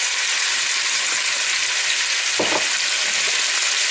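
Onions and meat sweating in a pan, a loud, even sizzle close up, with a brief stirring scrape midway and no voices.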